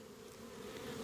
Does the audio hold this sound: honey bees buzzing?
yes